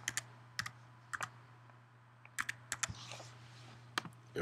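Bursts of key clicks on a computer keyboard as a password is typed, short irregular taps separated by pauses over a steady low hum, with no talking.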